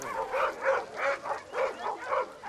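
A search and rescue dog gives a run of five or six short, evenly spaced whimpering yelps, close by and moderately loud, with no talking.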